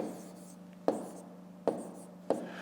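Pen writing numbers on paper during a fifth-grade math exercise, quiet scratching strokes with three sharp taps as digits are set down, close and faint.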